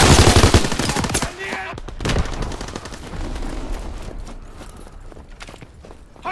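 Gunfire in a Call of Duty WW2 team deathmatch, with loud rapid bursts of shots up front followed by steady scattered firing and movement in the background.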